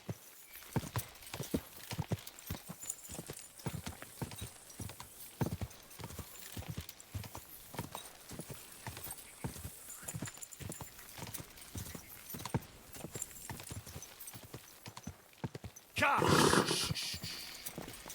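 Horse hooves clip-clop steadily at a brisk gait through a medieval Bohemian setting in Kingdom Come: Deliverance 2, with an occasional whinny and a louder burst of noise near the end.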